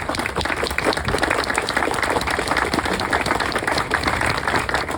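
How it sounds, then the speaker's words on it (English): An audience at a Veterans Day beacon lighting on Mt Diablo applauds the veterans present: thick, continuous clapping from many hands, loud and unbroken throughout. "Could I please have applause for all the veterans in this building?"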